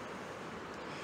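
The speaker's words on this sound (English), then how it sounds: "there's lots of water running down the hillside" Rainwater pours down a wooded Dartmoor hillside toward a river in full flood after about a day of rain, a faint, steady broadband rush lasting only a moment.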